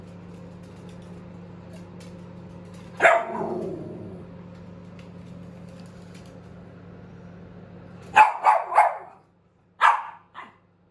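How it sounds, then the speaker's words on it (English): Pet dogs bark in short bursts, one loud bark early, then a quick cluster of yaps and a final pair, close and sharp, with a low steady hum behind them. "They've been barking at just about everybody this morning"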